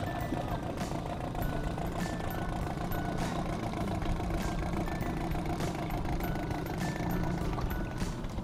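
A fishing boat engine runs steadily while out perch fishing on a lake, a continuous mid-pitched drone with faint periodic beeping ticks over the whole stretch.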